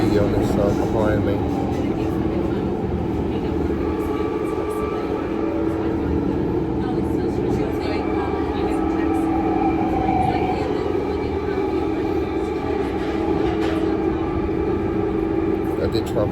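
A steady, loud rumble of a London Underground Jubilee line train running on rails, with a sustained mechanical drone and occasional high squeals, continuous for the whole stretch.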